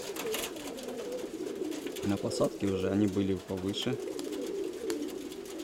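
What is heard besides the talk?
pigeons cooing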